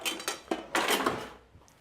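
Metal kitchen utensils clatter and clink in a drawer while a whisk is fetched, a quick series of close, bright jangles and scrapes that trail off into quiet.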